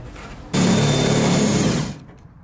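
A cordless drill runs under load drilling a hole into the fiberglass bedside of a Toyota Tundra pickup, one loud steady whine lasting over a second before winding down, close up.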